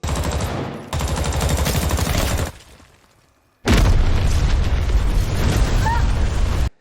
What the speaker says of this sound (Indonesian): Joseph berhasil menembak Polo yang membuat nyawanya tidak bisa diselamatkan